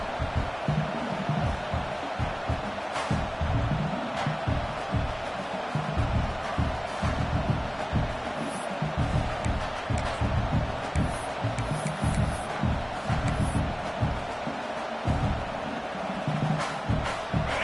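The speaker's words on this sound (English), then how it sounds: "with this place rocking, the crowd forces a false start" A loud stadium crowd at a Michigan Wolverines football game roars in a sustained, rumbling wall of noise with scattered whistles and shouts, the stadium rocking throughout.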